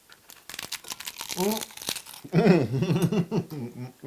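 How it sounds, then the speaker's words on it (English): Crunching of a homemade Tex-Mex beef taco with a crisp shell, loud close bites and crackly crumbling bursts, with people talking between and over the crunches. "This is going to be a crunch fest."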